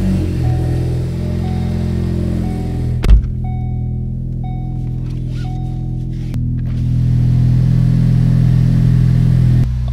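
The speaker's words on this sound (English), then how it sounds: "So let me go start up the car and get it out of here." A Ford Focus ST cranks to life after a brake upgrade, settling into a steady idle before the revs rise as it pulls away, the engine close and fairly loud throughout.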